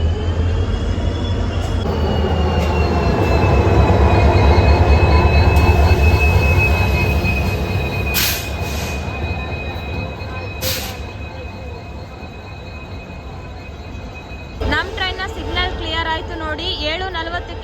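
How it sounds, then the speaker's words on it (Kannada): Railway sounds at Hosapete Junction during a locomotive change and reversal: a heavy train rumbles and its wheels squeal in long, high tones, followed by clanks and a brief burst of noise near the end. "ಇಂಜಿನ್ ಚೇಂಜ್ ಮಾಡ್ತಾ ಇದ್ದಾರೆ, ಲೋಕೋ ರಿವರ್ಸಲ್ ಆಗ್ತಾ ಇದೆ ಹೊಸಪೇಟೆಯಲ್ಲಿ"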